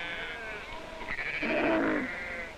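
A fat-tailed sheep in a desert bleats a couple of times, wavering calls rising over a steady low background rumble, moderately close.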